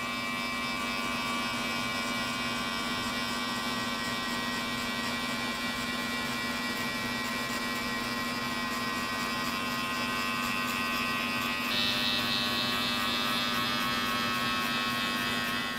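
Electric hair clippers with a one guard and the lever open cut a mid fade: a steady, close mechanical buzz and hum runs unbroken through the whole clip, shifting slightly in tone near the end.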